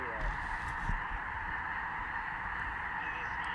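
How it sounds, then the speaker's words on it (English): A flock of snow geese honks in flight over a North Dakota hunt, a dense chorus of overlapping calls carrying steadily from a distance, with faint low rumble and a brief voice underneath. "Look at all the birds that are flying right now"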